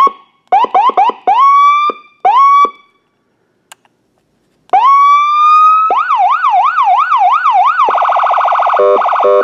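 A Feniex Typhoon siren controller cycles through several electronic siren tones, rising wails then a fast warbling yelp, broken by short blasts of electronic air horn and a brief gap of silence; loud and close with no talking.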